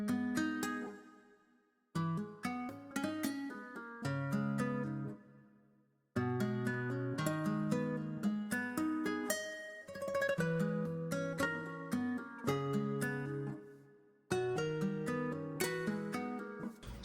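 Nylon guitar melody from a jazz-style software preset, panned left, plucks short phrases of chords and single notes alone at moderate volume, each phrase ringing and decaying before the next starts.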